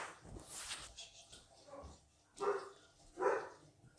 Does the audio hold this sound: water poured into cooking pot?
no